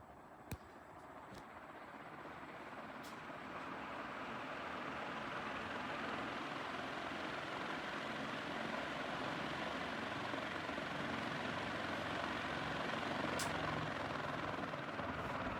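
Envirofan 136F industrial ceiling fan motor spinning up from stop to high speed, a broad steady whooshing drone that slowly swells and then holds, with a few faint clicks early on.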